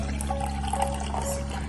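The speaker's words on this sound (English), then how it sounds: "So we'll take our cold water, pour it into our plastic cup." Cold water is poured from a container into a plastic cup for a convection demonstration, giving a faint, steady trickle and splash that runs throughout without a break, with no talking.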